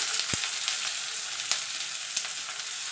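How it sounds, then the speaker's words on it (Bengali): Onions hiss and crackle in hot oil, frying steadily up close with a soft stirring scrape and a couple of light knocks against the pan. "পেঁয়াজটা দিয়ে একটু ভাজা ভাজা করে নেব।"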